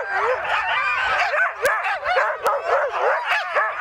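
A pack of sled dogs at the start of the Volga Quest 2017 sled dog race in Togliatti bark, yip and whine impatiently in an overlapping chorus, with sharp barks rising above the steady yelping.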